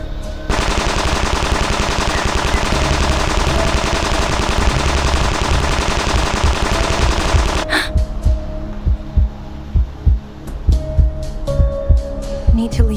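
Sustained small-caliber automatic fire with machine pistols in the Reverse: 1999 game, a loud dense rattling barrage that cuts off abruptly, followed by scattered single thumping shots.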